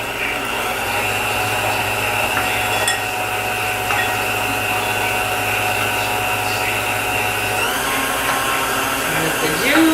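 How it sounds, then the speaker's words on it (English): An electric mixer creams cheesecake cookie dough in a bowl, a loud continuous motor whine with a steady hum, brief clinks against the bowl and a shift in pitch near the end. "Now we're going to blend this all together. Cream it really good."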